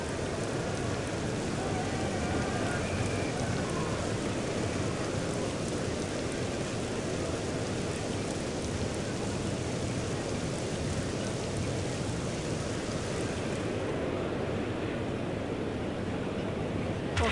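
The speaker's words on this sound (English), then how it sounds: "Players are leaving the pitch, covers are being brought out, and it's raining quite hard." Heavy rain falls steadily in the cricket video game Cricket 2005 as a dense, loud, unbroken hiss that lasts the whole stretch, with no talk.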